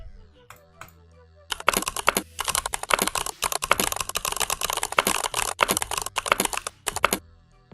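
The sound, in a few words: typing on Crystal Purple mechanical keyboard switches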